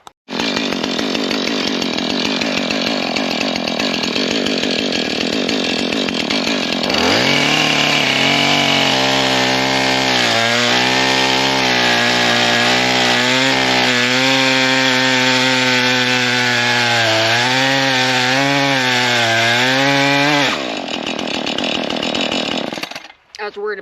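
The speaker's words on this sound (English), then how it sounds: "get my chainsaw, and hopefully cut some stuff up over here by the creek" Chainsaw cutting into wood beside a swampy creek, a loud continuous engine snarl that bogs and rises in pitch as the chain bites, running for about fourteen seconds before cutting off, with rough idle and rustling before it starts.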